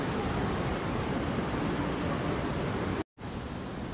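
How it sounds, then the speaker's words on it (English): Rushing water at Niagara Falls heard from close by, a dense, constant roar of falling water with a brief dropout near the end, no voices over it. "you can feel the surge of the water just come down to the waterfalls"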